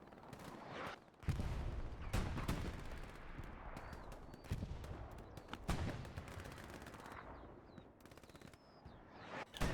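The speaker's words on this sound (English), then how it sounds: "all these FJ guys are just probably getting farmed by machine guns" Machine guns fire in repeated sharp bursts during a competitive Hell Let Loose match on the Kharkov map, with closer loud volleys and fainter distant shots rattling between them.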